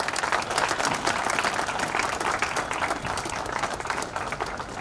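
An audience at a 2022 Shiv Jayanti celebration in Latur gives steady, dense applause, many hands clapping together at a fairly even level from start to finish.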